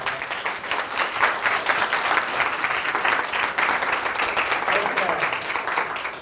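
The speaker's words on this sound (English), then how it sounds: "applause" Audience applause closing a 2016 accounting boot camp session, a steady dense wash of clapping throughout that fades slightly at the end.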